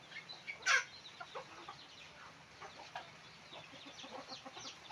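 Chickens clucking softly nearby in rainy Mindoro, with one sharper squawk early on and scattered low calls continuing over a quiet background.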